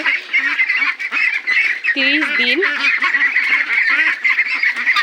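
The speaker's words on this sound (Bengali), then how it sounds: "দেখেন আমাদের বড় হাঁসগুলো" A flock of big month-old Muscovy ducks at a home farm honks and quacks continuously, loud and close, with several overlapping calls rising around the middle. Someone talks briefly among them.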